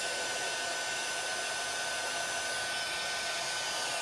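An embossing heat tool blows continuously for ink work, a steady close hairdryer-like roar of hot air that never changes pitch or stops, with no talking over it.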